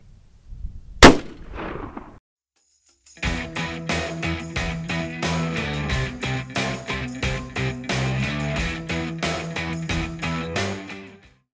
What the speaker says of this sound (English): We're going to shoot it into bare gel as well as through four layers of denim to simulate heavy clothing.